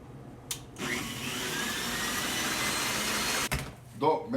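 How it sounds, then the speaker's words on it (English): An electric blender whirs loudly and steadily for about three seconds while making tiramisu, starting and stopping abruptly, close up, with brief clatter around it. "And we put them in the blender"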